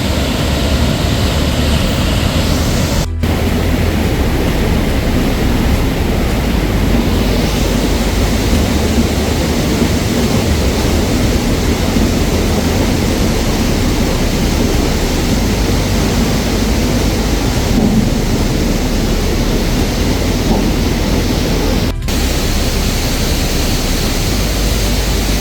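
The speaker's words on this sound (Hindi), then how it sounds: "जिस तरह से कल रात से लगातार बारिश हो रही है" Heavy, continuous rain pours down in a steady, dense hiss that stays loud and unbroken throughout, with no clear thunder standing out.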